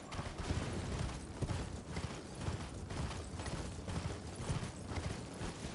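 Horse hooves clip-clopping in the video game Elden Ring, a steady, fairly quiet rhythmic galloping patter running continuously under a dense game soundscape.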